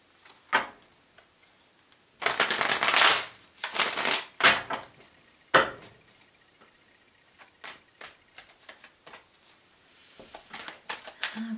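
Tarot cards being shuffled by hand, bursts of crisp riffling and slapping in irregular clusters, close and fairly loud, with quiet gaps between.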